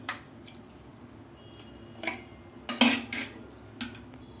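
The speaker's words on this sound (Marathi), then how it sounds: "मिक्सरच्या भांड्यामध्ये आता आपण चमच्याने ते घेणार आहोत आणि मिक्सरमध्ये फिरवून घेणार आहोत आपण." A spoon scoops boiled drumstick soup mixture into a steel mixer jar, giving a few soft, sparse clinks and wet scrapes at irregular intervals, close and fairly quiet.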